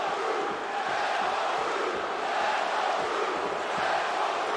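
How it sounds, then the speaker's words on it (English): An arena crowd at a UFC fight between two California fighters roars continuously, with competing cheers and chants rising and falling, loud and distant-sounding, with no clear talk. "there's definitely competing cheering going on"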